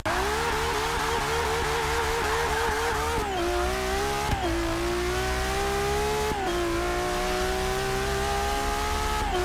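A 1,100 hp Ferrari F12 in Forza Motorsport 6 accelerates hard, its engine note climbing loudly through several rapid gear changes, each shift dropping the pitch briefly before it rises again, with no talk over it.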